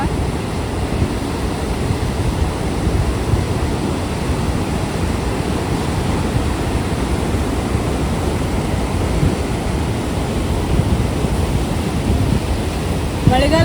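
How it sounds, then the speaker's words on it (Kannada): Loud, steady roar of rushing water, continuous and broadband throughout, like heavy flow pouring through the open gates of a full dam close by. "ನೀರು ಎಷ್ಟು ಫ್ಲೋ ಐತೆ ನೋಡ್ರಿ"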